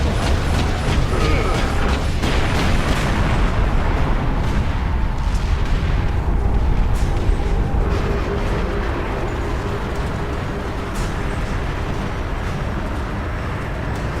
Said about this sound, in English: I love how he never stops firing.